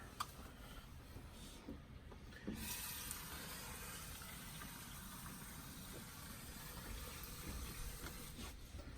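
Water pours steadily from a tap or cup for homemade elderberry syrup in a small RV kitchen, a continuous close rushing hiss that grows slightly louder partway through, with no talking.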